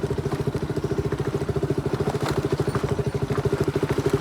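A motorcycle rolls downhill on a rough track, its engine giving off a steady, close, pulsing thump with some clatter.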